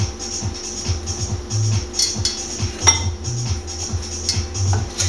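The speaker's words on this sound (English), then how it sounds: "Now you want to cut it maybe into sixths" A sharp knife chops squid into pieces on a board, giving a run of close, irregular knocks and clinks at moderate loudness, with no talking.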